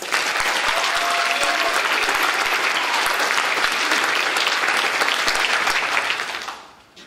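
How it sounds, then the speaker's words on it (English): An audience at a senior night award ceremony applauds scholarship students with sustained, dense clapping that holds steady for about six seconds before fading out. "Please give them a round of applause."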